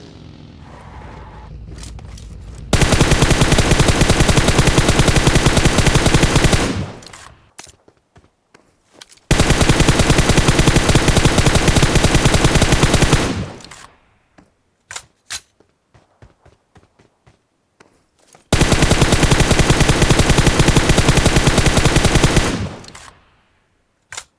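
Sustained automatic gunfire in the mobile game PUBG Mobile comes in three long, loud bursts of rapid, continuous shots, separated by quieter gaps with scattered single shots and clicks.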